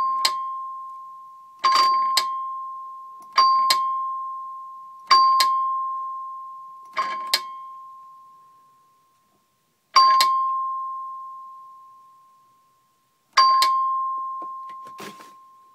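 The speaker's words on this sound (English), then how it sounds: "It sounds just like any other chime" An Edwards 328 single-strike doorbell chime, mounted behind a decorative cover plate, is struck about seven times in turn. Each strike gives one clear, close ding that rings out and slowly decays, with pauses of uneven length between strikes.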